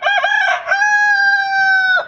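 A rooster lets out one loud, drawn-out crow close by, with a choppy start and a long held note.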